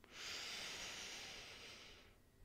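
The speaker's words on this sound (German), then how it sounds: "Nimm noch einen ganz tiefen, nährenden Atemzug ein" A single deep, slow breath during a morning yoga session, an airy hiss rising quickly and then fading gently over about two seconds, close and soft.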